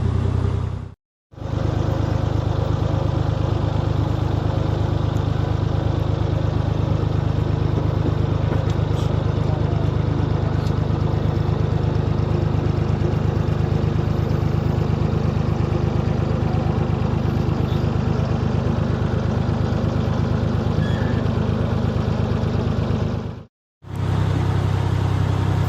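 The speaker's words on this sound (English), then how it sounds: "he's got the engine all sorted. She's running sweet" A freshly repaired boat engine idles steadily and close by, a constant low rumble running evenly for over twenty seconds between two brief cutoffs.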